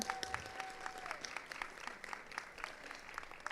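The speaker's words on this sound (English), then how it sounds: "another round of applause for our student council" Applause from a school board meeting audience honoring the student council, a steady patter of many hands clapping at moderate level throughout, with a faint tone and murmurs underneath.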